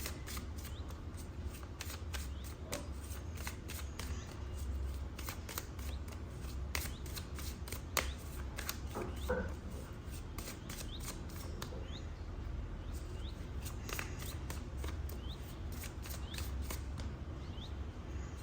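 Tarot cards being shuffled, producing soft, repeated riffling and sliding flicks at close range, steady and fairly quiet throughout, with no talking.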